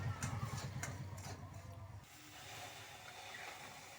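Milk poured into a hot pan of browned semolina for sooji halwa gives a loud sizzling hiss that bursts at first and then settles to a steady, softer steaming crackle.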